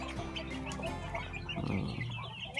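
Bantam chickens let out onto the ground cluck softly in short, irregular bursts, close by and fairly quiet, over steady low background noise.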